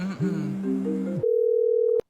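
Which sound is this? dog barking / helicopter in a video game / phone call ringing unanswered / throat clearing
phone call ringing unanswered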